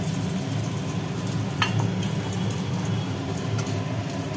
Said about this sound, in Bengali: ডিমগুলো ভাজা হয়ে গেল